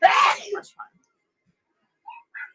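One loud, sharp sneeze from a person nearby bursts out at the start, followed by faint short voice sounds in an otherwise quiet room.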